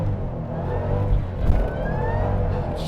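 A high-mileage Shelby GT500 with 210,000 miles pulls hard under heavy acceleration, its loud, steady engine roar holding throughout with a brief surge partway through.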